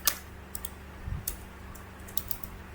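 Quick, uneven keystrokes on a computer keyboard as the ipconfig command is typed into a command prompt, a handful of close, crisp clicks over a quiet room hum.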